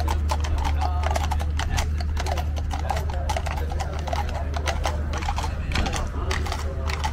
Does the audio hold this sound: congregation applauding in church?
no